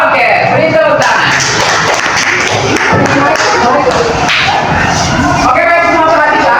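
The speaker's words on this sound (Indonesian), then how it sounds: "Oke, beri tepuk tangan." Classroom applause from students after a group finishes presenting: a dense, steady wash of clapping mixed with chatter, loud and continuous throughout.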